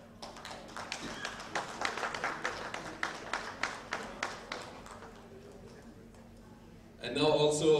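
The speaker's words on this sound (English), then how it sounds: "Please give a huge round of applause to each of our dear guests" Guests being honoured at a villa launch event, met with a short round of light, scattered audience clapping that fades out, before a voice starts up at the end.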